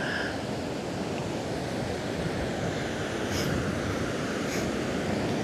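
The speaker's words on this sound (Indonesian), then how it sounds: "Ombaknya luar biasa. Naik lagi rob, daratan itu disapu" Steady roaring surf at Tegal Kamulyan beach in Indonesia, waves sweeping over the land in a broad wash of noise, churning continuously, with wind buffeting the microphone throughout.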